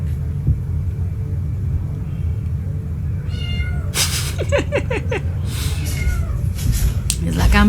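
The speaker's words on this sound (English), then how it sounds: "this is what the cat does to get back into the house." A house cat meows repeatedly to be let back indoors, a run of loud, insistent cries over a steady low rumble of background noise.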